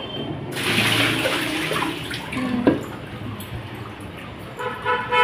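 Plain water splashes and pours while new clay cooking pots are washed, a fairly loud rush in the first half that fades to quieter trickles and knocks, with faint voices nearby.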